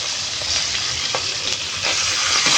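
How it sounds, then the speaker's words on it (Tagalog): Steady oily sizzling and crackling of galunggong fish frying in a hot pan, close and constant, with no voices. "Ipiprito muna natin siya ng kaunting prito lang."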